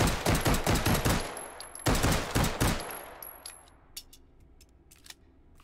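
Rapid bursts of gunfire in the VR shooter Hot Dogs, Horseshoes & Hand Grenades, loud close shots in quick rhythmic volleys that stop abruptly, followed by faint mechanical clicks and clatter.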